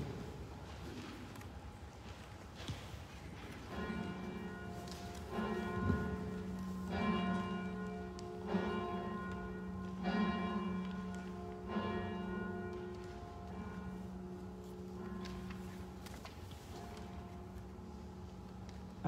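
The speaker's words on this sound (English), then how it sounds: "to hear the bell ring again is a wonderful thing" A church bell rings out in slow, evenly spaced strokes at a Sunday service, each strike leaving a long ringing tail that fades under the next, heard from a moderate distance with faint room noise.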